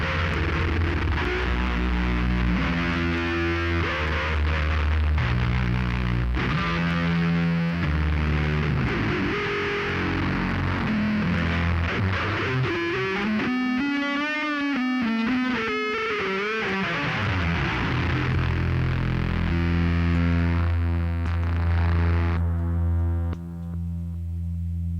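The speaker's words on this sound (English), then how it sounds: "that was what 7 different gain stages of distortion sound like" A guitar runs through seven gain stages of distortion in a basement live jam, producing a loud, thick, heavily saturated wall of sound with sliding pitches and squealing feedback swells in the middle.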